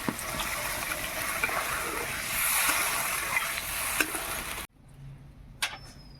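Water splashes into a pan of spiced, half-boiled potatoes, setting off a loud, steady sizzle and stir that runs close up for about four and a half seconds before cutting to near silence.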